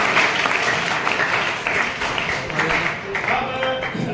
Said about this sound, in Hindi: तो एक बार मुकेश के लिए जोरदार तालियां बजा सकते हैं।